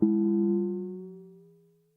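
Two synthesizer sine-wave oscillators with spread hold a pure, steady two-note tone that gradually fades away, then a brief click of sound at the very end.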